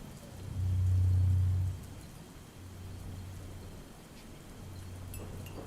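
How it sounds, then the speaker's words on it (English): Steady heavy rain with a deep, low rumble of distant thunder swelling early on, then fainter rumbles returning later. "That grumbling in the distance, louder, the rain pelting even harder in tandem."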